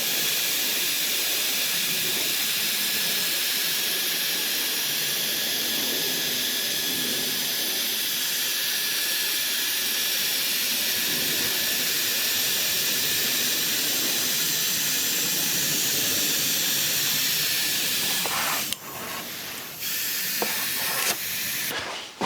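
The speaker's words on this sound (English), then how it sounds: "so I'm airbrushing from above and at a fairly low pressure" An airbrush sprays paint at a gentle 10–12 psi onto the tracks of a 1/6 scale Armortek Panzer IV model, a steady close airy hiss that breaks into short bursts near the end.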